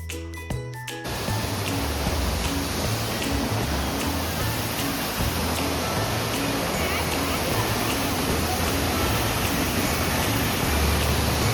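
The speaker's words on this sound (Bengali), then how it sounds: "চোখে পড়ছিল অনেক নাম না জানা ঝর্ণার" Steady rushing roar of a waterfall in East Sikkim, broad and continuous at close range, after a brief clatter at the very start.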